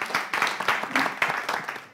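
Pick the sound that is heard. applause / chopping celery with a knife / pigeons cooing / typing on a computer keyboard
applause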